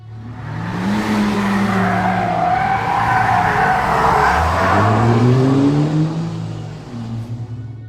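A gold-coloured Volvo accelerates hard and speeds away, its tyres screeching and skidding loudly as the engine note rises and sweeps past.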